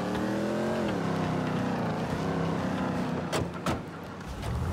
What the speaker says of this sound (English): Love my truck.